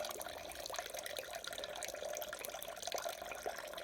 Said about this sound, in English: pour it back in the top and let it filter through the grain bed